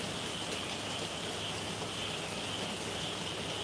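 Steady rain falls outdoors, a continuous even hiss of drops at constant level throughout, with no voices over it.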